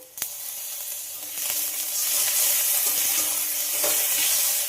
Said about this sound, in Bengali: চা চামচের দু চামচ আদা রসুন একসঙ্গে পেস্ট করে রেখেছিলাম সেটা দিয়ে দিলাম